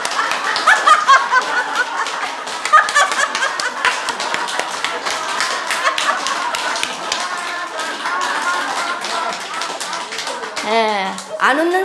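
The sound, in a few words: audience clapping hands while laughing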